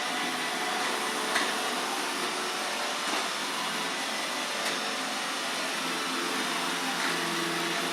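An iRobot i7+ robot vacuum cleaner runs at close range with a steady broadband whir, while a few soft bumps mark its contact with walls over the continuous motor hum.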